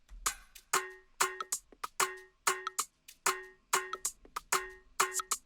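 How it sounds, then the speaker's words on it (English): Several snares, one of them a mouth snare, are layered together in FL Studio for an Afro/Moombahton remix. They play as a steady, syncopated pattern of sharp, bright hits with no other sound. "All the snares together sound a little bit something like this."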